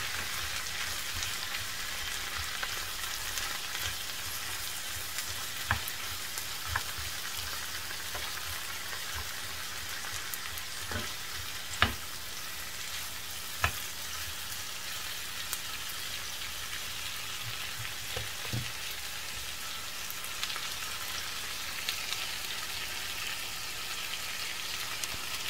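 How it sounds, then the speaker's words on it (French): Merguez, spices and ojja ingredients fry in a pan while being stirred, giving a steady, even sizzle with occasional sharp clicks and scrapes of the utensil, all continuous and fairly close with no talking. "Je remue."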